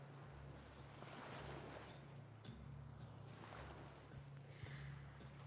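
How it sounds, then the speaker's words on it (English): Soft ocean waves and wind wash around a big floating city at sea in a constant faint, hissing surf ambience with gentle swells and no voices. "I need waves, otherwise I can't tell we're on a big floating city"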